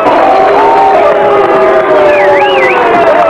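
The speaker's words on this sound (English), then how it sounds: "the vice president was booed by shipyard workers chanting Union Buster" Shipyard workers in Portland, Oregon boo and chant "Union Buster" at the vice president, a loud, continuous crowd roar with wavering shouts and whoops.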